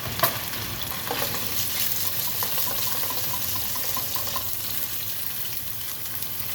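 Soft, fairly firm tofu fries in a pan, giving a steady broadband sizzle with a few brief clinks and stirring sounds near the start, close and even throughout with no voices.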